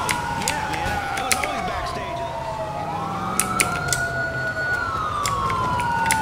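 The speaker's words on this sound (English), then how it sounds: "There's an ambulance about to kill us" An ambulance siren in the video game GTA IV sweeps up and down in a wailing pattern, loud and close over steady traffic and engine noise, with sharp clicks scattered throughout.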